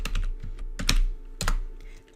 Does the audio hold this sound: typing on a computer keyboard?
yes